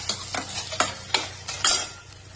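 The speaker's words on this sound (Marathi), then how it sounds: "तोपर्यंत आपल्या इकडे मंचुरियन बॉल्स छान प्रकारे क्रिस्पी तळले जात आहेत" Manchurian balls crackle in hot oil while a utensil stirs them, with several loud scraping and clattering strikes over a steady sizzle, close by and free of talk.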